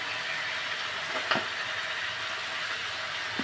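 Potato, carrot, beans, capsicum, papaya and chopped green chilli fry in a pan with a steady, even hiss, broken once by a short clatter as the vegetables shift, close and without talk.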